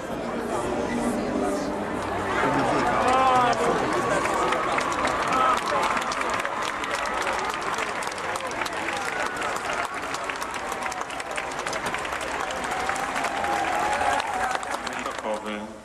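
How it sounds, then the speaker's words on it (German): Pilgrim groups in the Vatican applaud and cheer after being greeted by name, a dense continuous roar of clapping mixed with excited crowd chatter that stays loud and even throughout. "Der Jubel unter den angesprochenen Gläubigen ist groß."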